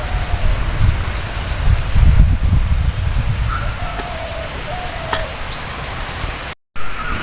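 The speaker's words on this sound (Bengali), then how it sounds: "হাওয়া দিতে শুরু করেছে" Steady outdoor wind gusting in a village yard as storm clouds gather, a continuous broadband rush with rustling, a few faint bird calls and a brief dropout near the end.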